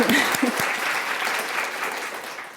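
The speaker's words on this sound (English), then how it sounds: "So one more round of applause." Audience at a university distinguished librarian awards ceremony gives a steady round of applause, dense clapping throughout that tapers slightly at the end, with brief voices near the start.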